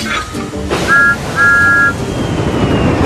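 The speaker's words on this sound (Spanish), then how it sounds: "Y tocando su silbato," A Thomas the Tank Engine toy train whistle sounds two tonal toots, a short one then a longer one, loud and close over background noise.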